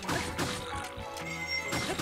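A horse in Zelda: Breath of the Wild gives a short whinny among scattered hoof clops and knocks, close and moderately loud, with no talk.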